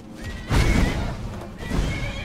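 A horse in the video game Skyrim lets out two loud, close whinnies in quick succession, each a shrill rising neigh with breathy rumble beneath, over faint background game ambience.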